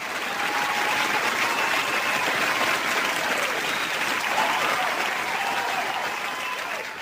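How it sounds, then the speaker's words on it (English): A round of applause fills a room, dense steady clapping from a crowd that holds at an even level from start to finish. "Another round of applause filled the room."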